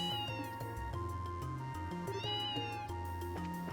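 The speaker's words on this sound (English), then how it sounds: "Oh my gosh, they brought the cat." A cat in Trails in the Sky SC meows twice in clear, high, rising cries over a steady game music bed, with no talk.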